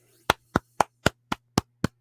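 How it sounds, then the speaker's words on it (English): Seven crisp hand claps land in a steady, evenly spaced rhythm, sharp and close, as a small round of applause with no voices over it. "deserves a round of applause"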